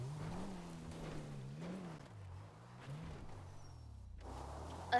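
A car engine in GTA 5 labours uphill with a steady low drone that rises and dips in pitch, fairly quiet and alone, ending with a short thump.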